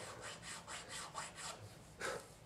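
Fine Harbor Freight riffle files for metal rasp across a block of carving wax in quiet, rhythmic back-and-forth strokes, about seven passes in quick succession, close by and with no talk.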